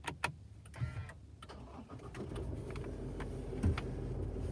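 An Isuzu MU-X LST 4x2 SUV's engine cranks and starts on a hot day, a few clicks and a brief whir giving way to a low, steady idle that settles in close to the microphone.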